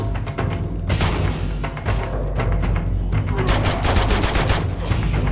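Gunfire in Uncharted 2, a loud, dense barrage of overlapping shots and bursts that continues steadily from start to finish with no voice over it.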